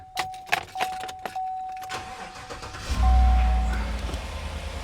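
Keys jangle up close on a lifted truck riding on 35-inch tires, then the engine cranks and catches into a loud, steady, rumbling idle for the last couple of seconds.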